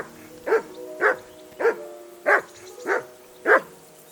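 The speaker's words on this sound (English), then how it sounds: "Whistle at that mutt of yours to stop barking!" A dog barks six times in an evenly spaced rhythm in the video game Kingdom Come: Deliverance II, each bark short, clear and fairly close, over a quiet background.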